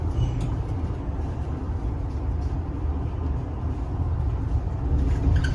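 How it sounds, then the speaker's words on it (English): A low, steady hum and rumble fills the interior of a moving electric bus in Amsterdam, with a constant mid-level drone and faint rattles throughout and no one speaking. "listen to the ambiance inside of these buses"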